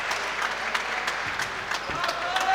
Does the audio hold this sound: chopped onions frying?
no